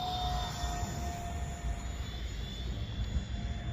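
A brushless J35 electric ducted fan RC jet flies at full throttle, giving a steady, moderately distant whooshing roar with a thin high whine held throughout, no talking over it.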